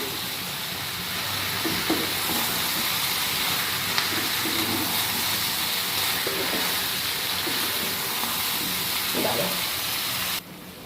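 Water poured into a hot pan of spices hisses steadily, a broad continuous sizzle that holds for about ten seconds, broken by a few faint clinks and scrapes, then cuts off abruptly near the end.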